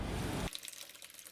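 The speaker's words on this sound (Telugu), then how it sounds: "మనకు కావలసిన కన్సిస్టెన్సీ కోసం వాటర్" Water pours briefly into a pot of cooked dal for South Indian sambar, a short splashing gush that stops after about half a second and leaves quiet room tone.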